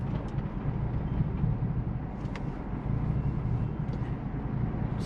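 A Ford Crown Vic with a swapped 7.3L Godzilla V8 idles roughly while close to stalling on its first drive, a steady low rumble with uneven pulsing, heard from inside the car.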